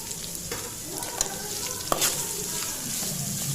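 Onions sizzle in hot oil with curry leaves and green chillies for chitranna, a steady crackling fry with a few scraping clicks from a spoon stirring the pan, close and moderately quiet, with no talking.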